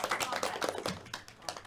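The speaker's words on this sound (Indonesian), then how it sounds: "Kasih tepuk tangan buat temennya." A short burst of scattered clapping from a small group of students in a classroom, with voices mixed in.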